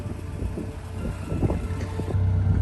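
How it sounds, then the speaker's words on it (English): Steady wind buffeting a microphone outdoors beside a parked Acura Integra DA9, a dense, continuous rumble with a faint low hum running underneath. "It's a little windy out here. I hope I can talk over the wind."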